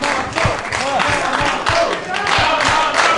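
A wrestling crowd at a main-event tag team match cheers and shouts steadily throughout, a dense roar of many voices with rising swells, under light commentary-like talk.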